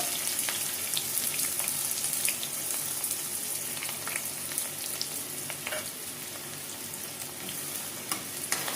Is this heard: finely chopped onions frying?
yes